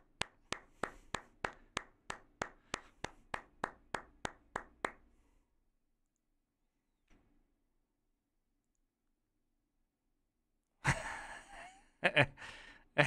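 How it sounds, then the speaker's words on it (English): A small group claps together in a steady beat of about a dozen sharp claps over five seconds, then falls silent. Later comes a burst of noisy movement and breathy sounds. "Can we just clap?"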